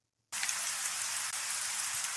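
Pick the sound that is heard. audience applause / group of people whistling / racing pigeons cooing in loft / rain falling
rain falling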